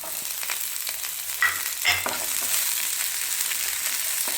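Ginger and garlic sauté in hot oil for a variety pickle, giving a steady close sizzle with a couple of brief spatula scrapes against the pan and no talking.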